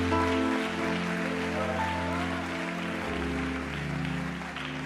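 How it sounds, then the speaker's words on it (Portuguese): A church congregation applauds to the Lord, a steady hiss of many hands clapping under a sustained organ-like musical drone with chord changes, moderately loud and continuous. "Pode aplaudir ao Senhor."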